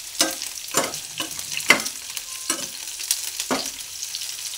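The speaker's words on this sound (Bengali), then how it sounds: "পেঁয়াজটাকে ভেজে নিচ্ছি।" Onion and slit green chillies fry in a pan under a soft steady sizzle, with about half a dozen sharp scraping stirs of a utensil spaced roughly every half second to a second; no voices.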